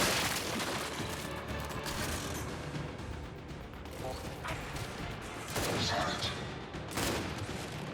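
Gunfire and mechanical clatter from the Gears 5 video game on Insane difficulty, with bursts of shots, heavy impacts and weapon clanks over a dense, busy battle background.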